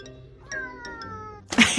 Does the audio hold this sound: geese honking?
no